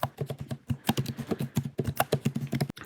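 Rapid keystrokes on a computer keyboard as a business email address is typed, a dense run of close, crisp clicks with short irregular gaps, and no speech.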